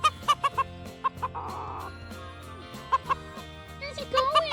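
A rooster clucks in a run of short, sharp calls near the microphone, with a brief rough burst between them and a quicker cluster of clucks at the end.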